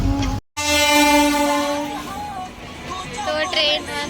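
A passing train sounds a long, loud, sustained horn blast over the rumble of the rail cars, with the tone shifting slightly as it continues before fading into rolling track noise.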